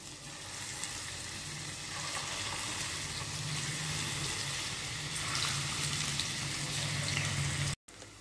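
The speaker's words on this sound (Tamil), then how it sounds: "இப்போ இதை எண்ணெயில் போட்டு பொரிச்சு எடுத்துக்கலாம்" Potato snack balls deep-fry in hot oil on medium heat, a dense continuous sizzle and bubbling that holds steady and close, cut briefly near the end, without talk.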